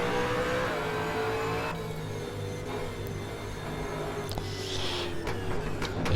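V8 Supercar engine in a racing video game replay, a steady droning motor note with gear-shift drops and revs rising and falling, continuous and fairly loud with no talk over it.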